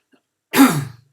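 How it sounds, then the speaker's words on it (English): One short, harsh cough or throat clear, close and loud, with no talking around it. "You have to forgive me for coughing."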